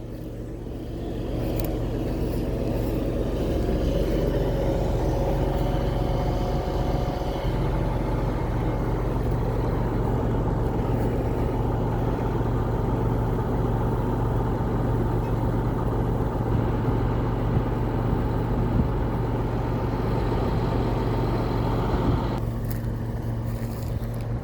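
A new combine harvester at the start of harvest runs its engine steadily and loudly up close, a dense continuous drone with strong low hum that holds for nearly the whole stretch before easing slightly at the end.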